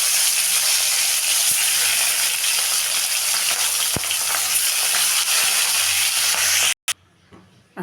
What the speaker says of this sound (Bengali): তেল গরম হয়ে গেছে, মাছটাকে ভেজে নেব।